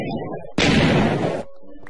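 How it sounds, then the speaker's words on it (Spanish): A single Minecraft explosion bursts in abruptly, a loud, broad blast that holds for almost a second before cutting off, with quieter game sounds and some talk around it. "Pueden ver las explosiones."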